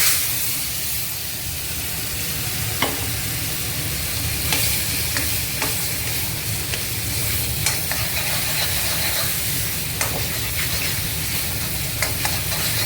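Ground fig paste for a sweet fig halwa sizzles steadily in hot ghee, with a constant frying hiss broken by scattered clinks and scrapes of stirring, close and fairly loud throughout.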